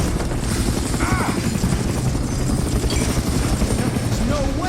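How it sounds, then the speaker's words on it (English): A helicopter in the video game Far Cry Instincts roars continuously and loudly throughout, a dense rotor drone filling the scene with faint voice fragments underneath. "Who the hell has helicopters down"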